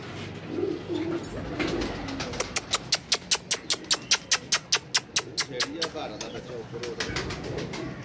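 Pigeons coo softly nearby while people talk, and a run of sharp, rhythmic clattering pulses, like wing flaps, repeats for a few seconds in the middle.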